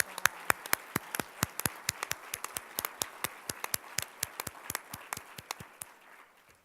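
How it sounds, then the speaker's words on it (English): Applause from an audience at an annual women's fund dinner keynote event: a sparse, uneven patter of individual claps, fairly distant, thinning out and fading toward the end. "Let's give another round of applause to Tanisha for that powerful performance."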